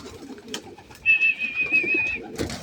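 Racing pigeons kept in a loft coo once in a sustained, moderately loud call over soft background rustling and faint flock sounds, with no talking.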